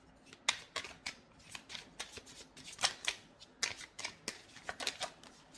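Tarot cards being shuffled by hand, a close, quiet run of crisp riffling bursts in an uneven rhythm.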